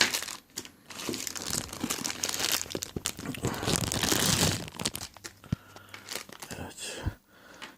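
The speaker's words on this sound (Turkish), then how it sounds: "Saat böyle bir naylon poşetin içinde geliyor." Thin plastic bag crinkling and rustling up close as a wristwatch is unpacked from it, a continuous busy crackle with brief pauses and a voice speaking softly over it.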